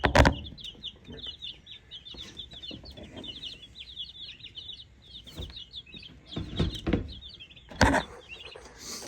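Chickens cluck and chirp steadily in the background, a scattered flock nearby, with occasional louder thumps and rustling noises breaking in.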